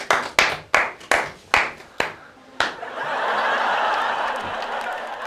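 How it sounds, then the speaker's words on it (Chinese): A talk-show studio audience welcomes a guest, opening with a run of loud, evenly spaced single hand claps that swell into sustained crowd applause mixed with light chuckling. "我们来掌声欢迎陈汉"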